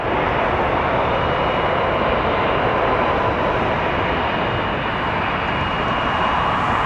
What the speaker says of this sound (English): That was Glencore, Canada, 737-200 from Montreal.